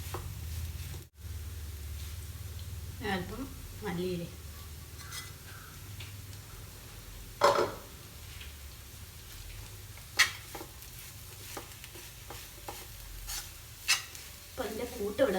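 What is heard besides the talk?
mixing bread crumbs into a frying mixture in a pan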